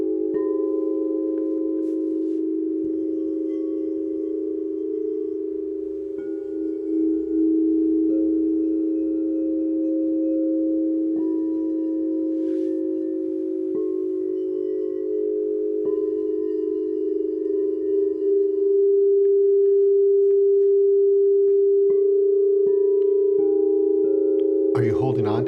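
A sustained, steady ringing tone from Meinl solfeggio singing bowls with a shimmering hum, continuing for a long stretch with faint higher overtones drifting in.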